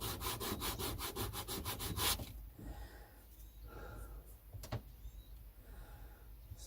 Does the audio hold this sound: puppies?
no